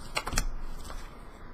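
Tarot cards are shuffled by hand in a few quick riffling bursts, close and fairly quiet, followed by a soft settling rustle.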